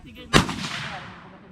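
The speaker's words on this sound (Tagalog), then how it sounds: "Firing, still firing." One loud, close gunshot cracks at a shooting range and leaves a long echoing decay that fades over about a second.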